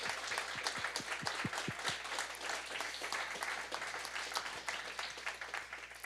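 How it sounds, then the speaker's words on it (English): An audience at a competition finale applauds the judges, steady clapping from many hands that stays even and fairly distant throughout. "everyone, please give a round of applause for the judges"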